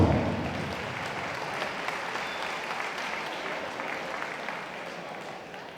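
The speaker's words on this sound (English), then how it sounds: "Big round of applause, ladies and gentlemen, Tim Clayton in the blue corner." A crowd at an amateur boxing finals applauds loudly for a boxer, a dense, steady clapping that carries on for several seconds and tapers slightly toward the end.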